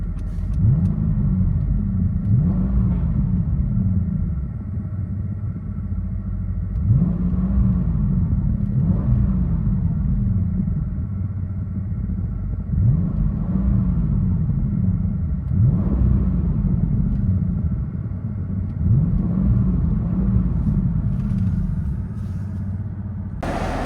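A 2006 Mercedes S55 AMG with a 5.5-liter supercharged V8 and resonator delete, heard from inside the cabin: a deep, loud exhaust rumble that swells in several repeated revs and acceleration pulls.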